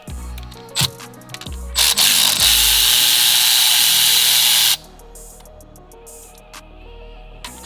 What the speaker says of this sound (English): Break those free with a wrench.